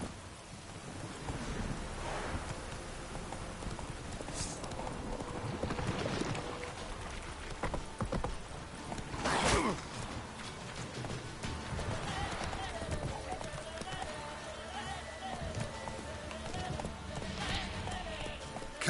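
Roach the horse gallops through rain in The Witcher 3: Wild Hunt, hooves pounding in a rapid, continuous rhythm over a wet storm backdrop with distant thunder and someone speaking at points.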